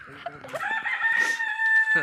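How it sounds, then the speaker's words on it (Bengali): A rooster crows nearby in one drawn-out call, with a few clucks and scattered street sounds around it. "বাহ, মুরগিও ডাকছে কি কাজে"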